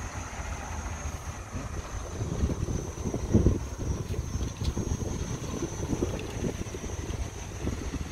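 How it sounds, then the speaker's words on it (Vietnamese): Gusty wind blows outdoors at a construction site where sidewalks are being paved in Can Tho, rumbling into the microphone with rising and falling buffets throughout. "Khá là gió."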